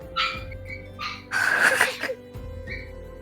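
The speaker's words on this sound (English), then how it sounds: "oh geez, my dog" A puppy barks close by in a home, a few sharp yips and one longer, louder burst in the middle, with no talk over it.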